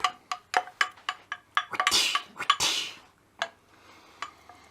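A spoon clinks against a mixing bowl while the ingredients of a non-alcoholic Christmas pudding are stirred together: a run of sharp, irregular clinks and scrapes, close and fairly loud, fading to a few scattered taps.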